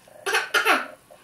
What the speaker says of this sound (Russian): Покашляйте.